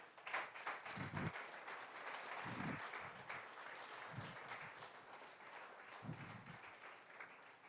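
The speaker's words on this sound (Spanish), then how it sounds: "Un aplauso a Jesucristo." Congregation applauding in a church, a continuous wash of clapping lasting several seconds with occasional low thumps and murmurs underneath, moderately distant.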